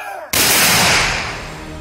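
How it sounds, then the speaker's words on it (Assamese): A Naga army unit of the NSCN fires a gunfire salute into the air at a military funeral tribute, a sudden loud burst of shots that erupts after a brief quiet moment and rolls on as a sustained, echoing roar. "শূন্যলৈ গুলী নিক্ষেপেৰে জনালে শ্ৰদ্ধা"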